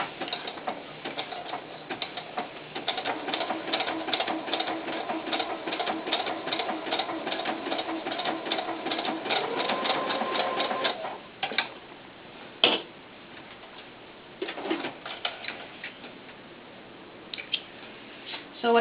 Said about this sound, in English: I'm using a knit stitch to do the sewing on the inside